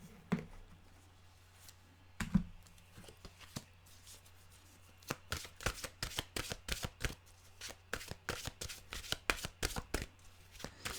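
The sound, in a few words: shuffling a deck of mantra cards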